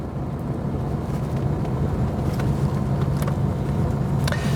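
A 1975 Porsche 911 Carrera 3 Sport Targa engine pulls steadily from around 20 to 60 mph, a continuous close engine drone with a low harmonic hum and road and wind noise, no talking.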